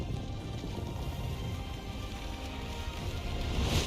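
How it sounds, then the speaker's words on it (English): Steady rain falling in the video game Wuthering Waves, a soft even hiss of drops on surfaces, quiet and continuous with a slight swell at the end. "Until the retroact rain began to fall."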